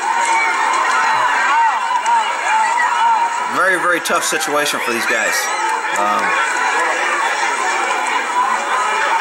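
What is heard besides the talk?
massive crowd rushing a border control point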